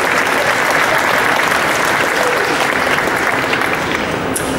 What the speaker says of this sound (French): Ça applaudit ça.